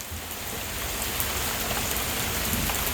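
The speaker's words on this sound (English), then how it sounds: "Like, it's hailing now." Hail pelting down during a thunderstorm, a dense steady hiss of impacts close by, without any voices.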